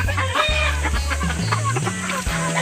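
Chickens cluck and chatter inside their coop near a new nest, with several overlapping calls in a steady, close, busy stream and no talking.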